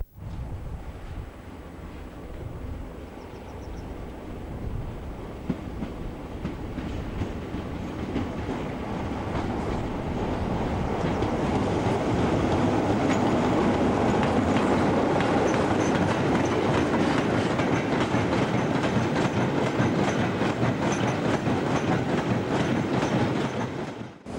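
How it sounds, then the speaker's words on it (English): Diesel locomotive 26028 rumbles in from the north with empty ballast wagons at Mossend Yard, wheels clattering rhythmically over rail joints as the noise swells and stays loud. "26028 is seen arriving from the north with empty ballast wagons"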